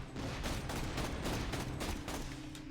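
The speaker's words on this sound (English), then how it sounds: "So what Torgue barrels do to assault rifles is it changes the bullets into grenades." Torgue-barrel assault rifle from Borderlands: The Pre-Sequel launching grenades, a dense, continuous barrage of explosive shots blending into steady loud gunfire with no talk.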